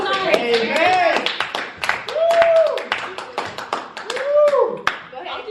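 A few people clapping close by in a quick, uneven patter, mixed with lively talking and laughter.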